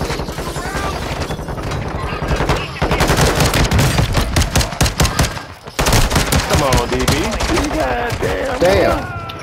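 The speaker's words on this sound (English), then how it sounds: "how many fucking shots he gonna take?" Rapid automatic gunfire during a video game shootout, dense and loud bursts of shots cracking almost continuously with a brief pause midway, while players shout over the action.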